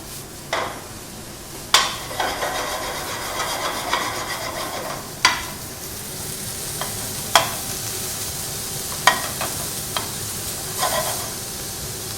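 Guanciale sizzles and spits in a pan as a steady close hiss, broken by a few sharp clinks of a utensil stirring against the pan at irregular intervals, with no voices.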